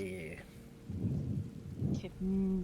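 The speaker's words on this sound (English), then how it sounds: "Ooh, rain!" Video game rain and rumbling thunder swell in two low bursts, fairly quiet, with brief tonal game sounds before and after.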